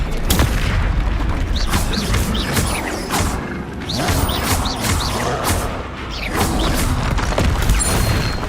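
Fiery Confringo spell blasts from Hogwarts Legacy boom repeatedly in a dense, loud barrage, with crackling bursts and mechanical clatter layered over steady game noise.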